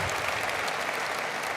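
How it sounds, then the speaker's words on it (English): Audience at a county State of the County address applauds students who clean up local riverways; a short, even burst of clapping fills the room without any voices. "give them a round of applause for what they're doing literally to clean up our environment"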